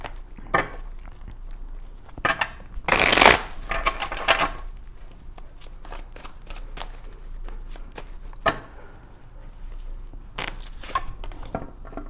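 Tarot cards are shuffled by hand in a quiet room, with soft riffling and tapping and one louder burst of fast flicking, scattered irregularly over a dozen seconds.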